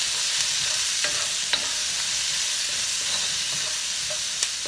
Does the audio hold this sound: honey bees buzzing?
no